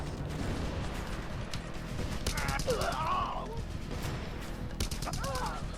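Bursts of gunfire from the open-world action game Just Cause 2, repeated shots and mechanical clatter over a steady background din, with a voice talking intermittently.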